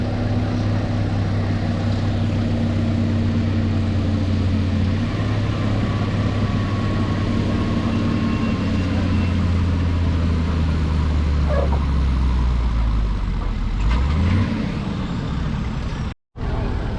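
Oliver 2150 tractor at a fall tractor pull, its engine droning steadily and loud for a long stretch with shifting pitch, easing off near the end before a brief dropout.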